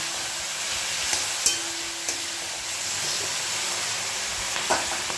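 Vegetables fry in a pan with a steady, even hiss, joined by a few light taps and clinks of a utensil against the pan, with no speech over it.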